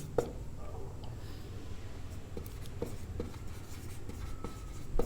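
Marker or chalk writing on a classroom board during a Class 10 maths lesson, faint scratchy strokes coming in short irregular bursts, with quiet room tone and no clear speech.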